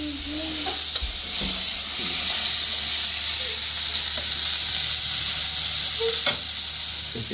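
Snake gourd frying in a pan makes a steady, even sizzle and hiss close at hand, with faint clinks and small background sounds now and then.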